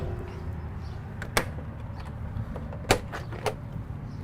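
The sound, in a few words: horse trailer manger bay doors being opened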